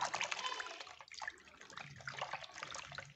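Shampoo being mixed into water in a bowl by hand makes soft, continuous sloshing and swishing splashes, close by and fairly quiet.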